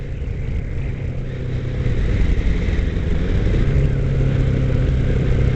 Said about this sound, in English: Now what I'm doing is I'm downshifting as I'm coming to a stop.